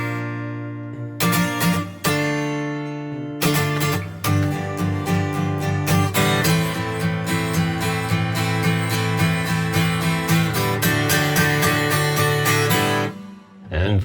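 Strummed guitar chords from the bridge of a song ring out in a steady rhythm, full and close, moving through a short chord progression with no voices.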